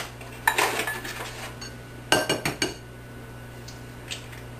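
Eggs are cracked into a bowl while making spaghetti cupcakes. Two close, crisp bursts of sharp taps and clinks against the bowl are separated by a brief pause, with a faint tap afterward.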